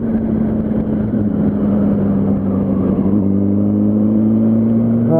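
A Yamaha R1 sport motorcycle cruising on a Los Angeles road gives a loud, close, continuous engine hum that stays fairly level and then settles into a slightly smoother tone partway through.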